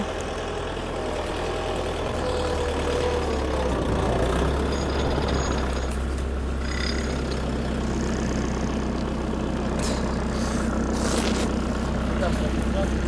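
A heavy tractor engine rumbles steadily throughout in deep snow, low and close, with people talking over it and occasional clanks and hisses.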